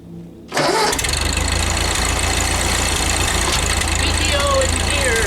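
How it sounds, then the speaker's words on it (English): A Ford 2N/9N tractor engine cranks briefly and catches, then settles into a loud, steady running idle close by. "Gas is on, neutral."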